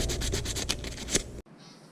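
Hand sanding on an old hunting knife being restored gives a close series of rhythmic rubbing strokes, scratchy and fairly loud, ending abruptly into near silence.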